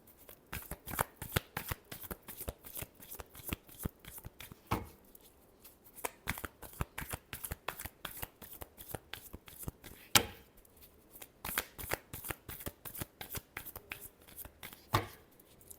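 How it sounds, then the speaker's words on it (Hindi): A tarot deck is shuffled by hand in a long, steady run of crisp riffling card flicks, close and fairly quiet, with brief pauses between passes. "Last shuffle."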